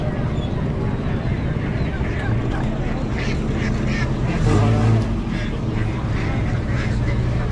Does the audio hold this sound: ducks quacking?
yes